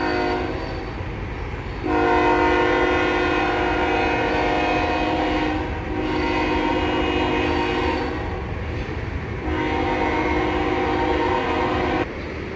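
A distant train down at river level in Hannibal, Missouri blows its horn in long, sustained blasts, three or four in a row with short gaps, over a steady low rumble of rail traffic; no voices.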